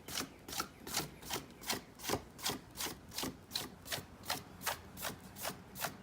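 Steady rhythmic rubbing strokes on the foam surface of a 1600mm Flightline Corsair model airplane, about fifteen even back-and-forth passes, close and fairly quiet, with no talking.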